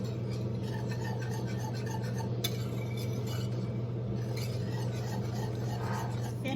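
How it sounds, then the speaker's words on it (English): Grated parmesan being stirred into a creamy alfredo sauce, a steady soft scraping and swishing of the utensil with faint clinks, continuous and close, with a low constant hum underneath. "All right, and let's stir that in."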